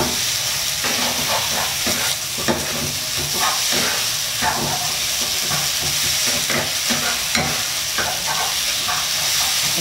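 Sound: stir-frying pad see ew rice noodles over high heat

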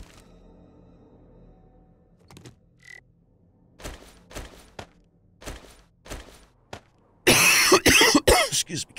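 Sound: person coughing

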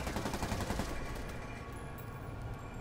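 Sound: gunfire from criminals in the Spider-Man video game

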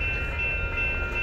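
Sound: Union Pacific northbound grain train passing

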